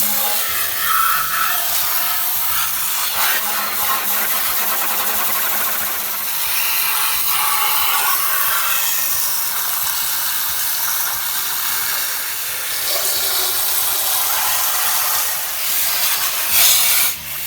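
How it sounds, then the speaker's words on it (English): Garden hose spraying water over a window air conditioner unit outdoors, a continuous hissing, splattering rush that shifts in tone as the spray moves across the surfaces, with no talk. "you can use the garden hose to clean it up"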